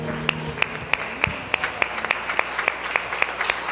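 Rhythmic, evenly spaced hand claps from a church congregation, with a low hum under them. The claps are moderately loud and keep a steady beat throughout.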